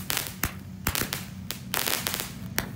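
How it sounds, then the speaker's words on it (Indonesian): Rapid shots from a 50-shot mini cake firework popping in quick succession, sharp bangs with crackling bursts between them, fairly close and loud. "Pesta kembang api guys."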